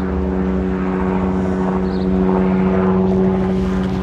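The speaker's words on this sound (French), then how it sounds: "Bon, on a trouvé un hélicoptère." A low-flying helicopter passes over a coastal area at night, with a steady loud rotor and engine drone and a strong humming tone throughout, no talk.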